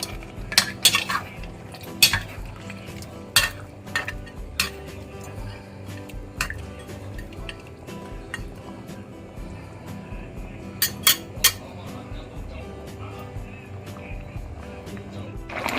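Stirring green curry chicken with Thai eggplant in a pot, with a metal spoon clinking and scraping against the pot in irregular sharp taps over a low background hum.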